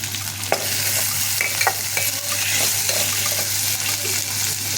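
Chopped tomatoes frying in a hot oil tempering with browned ginger, a steady close sizzle with spoon scrapes and stirring clatter against the pan throughout.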